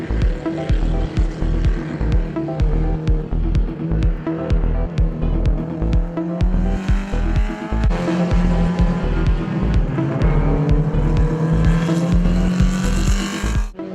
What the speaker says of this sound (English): here in car 152 we see the Mark II Escort there of Quinton Willis